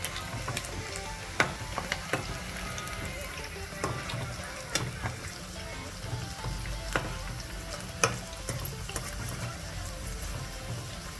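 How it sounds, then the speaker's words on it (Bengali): Pieces sizzle and fry in a pan after being flipped while biryani is being made, a steady close sizzle with occasional sharp pops and clicks of utensils throughout. "পিঠটা ভাজা হয়ে গেছে, এবার এগুলোকে সব উল্টে দিচ্ছি আমি।"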